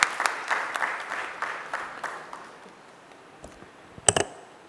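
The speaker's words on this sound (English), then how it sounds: "Please welcome with a round of applause." Applause from an audience at a 3D printing machine launch event: a burst of clapping that fades over about three seconds, followed by a few isolated knocks and taps.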